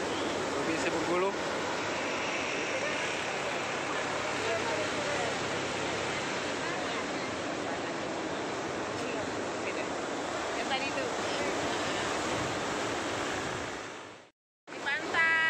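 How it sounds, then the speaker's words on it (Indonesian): Ocean surf washing steadily onto Muko Muko beach in Bengkulu, an eroding shoreline, a dense continuous roar of breaking waves close by that cuts out briefly near the end. "ini adalah pantai Mukomukom yang berada lebih kurang 15 km dari ibu kota Mukomukom"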